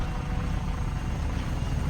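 Helicopter in the video game Just Cause 3, a steady low rotor drone with a broadband whine sustained at moderate level throughout, no talk over it.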